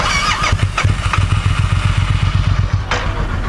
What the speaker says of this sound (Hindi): इसका इंजन स्टार्ट करके देखते हैं।